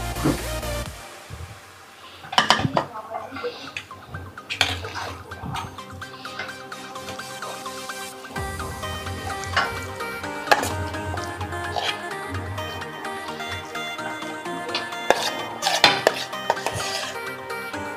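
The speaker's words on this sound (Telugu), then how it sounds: "దీన్ని ఇప్పుడు మనం సర్వింగ్ బౌల్లోకి తీసుకుందాం" Ivy gourd chutney spooned from a pot into a serving bowl: repeated clinks and scrapes of a spoon against dishes, sharp knocks at irregular intervals over a quiet kitchen background, with no voices.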